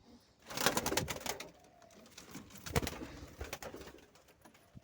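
Racing pigeons cooing faintly around a loft, soft rolling coos mixed with wing flutters and scattered clattering thumps.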